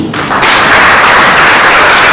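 A large audience breaks into applause at a festival, the clapping swelling quickly from a brief quiet moment into a loud, dense, sustained roar of hands.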